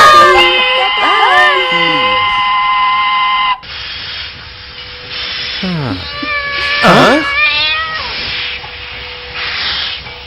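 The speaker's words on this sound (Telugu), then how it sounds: "రేయ్ పిల్లి" A cat meows in a Telugu film scene from Summer in Bethlehem, with several rising and falling cries, close and fairly loud, set against a hissing steam-like background.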